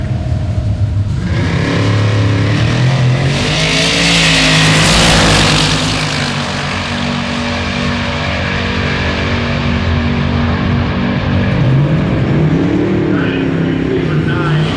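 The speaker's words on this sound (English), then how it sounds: "They're one tough looking race car." A tough-looking race car revs hard and accelerates, its engine climbing and swelling to a loud peak before it settles into a steady drone. People talk over the engine.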